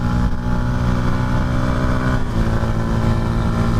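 A Yamaha MT 125 motorcycle engine idles loudly and steadily nearby, a dense rumbling drone with a slight dip in pitch partway through.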